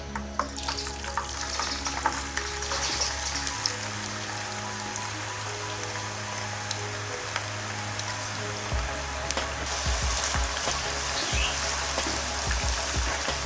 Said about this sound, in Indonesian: setelah minyak panas, goreng kentang yang sudah ditiriskan